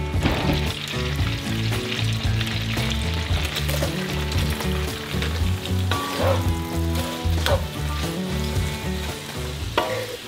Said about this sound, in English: go ahead and get these sauteed in some butter and get them caramelized